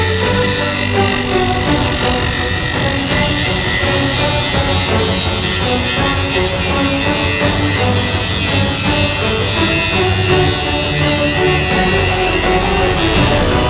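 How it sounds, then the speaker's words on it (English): Grinding out a crack that runs almost all the way across an axe head, a loud, steady abrasive whine and rasp that runs continuously without a break. "We're going to grind that out and weld it."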